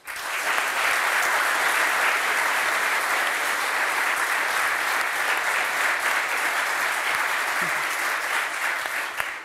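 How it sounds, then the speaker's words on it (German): A studio audience at a live sports talk show applauds continuously, a dense, loud, even wash of clapping that holds steady for nearly ten seconds. "Auch ein riesiger Applaus bitte"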